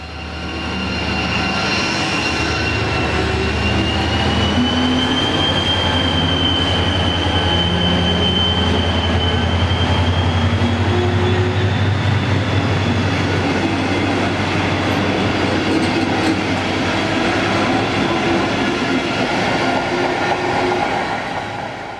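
Locomotive ME1526 hauls a loco-hauled passenger train departing west from Høje Taastrup station in Denmark, a loud sustained engine drone with rising tonal whine and rail noise that holds steady throughout, close by and without talk.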